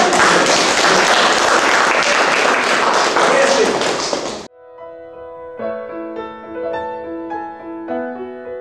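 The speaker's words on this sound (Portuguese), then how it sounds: "Agora batem palmas. Podem bater palmas." A church congregation claps after a baptism, dense sustained applause for about four and a half seconds, then it cuts off abruptly and soft tonal instrumental music follows.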